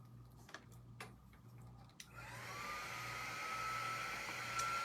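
A hair dryer switches on after a few light clicks and runs steadily, blowing air over a sunflower drawing on paper, a close, continuous whirring hum with no talking.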